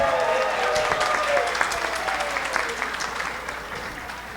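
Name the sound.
audience applause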